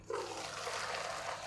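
Hot pasta water from a pot of fusilli poured through a colander into a large bowl below, a brief, soft, steady splashing gush.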